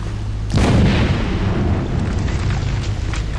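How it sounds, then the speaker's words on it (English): A grenade blasts in Batman: Arkham City, a sudden loud boom that bursts out after a brief lull and trails into a long, rumbling roar with scattered crackles. "Grenade!"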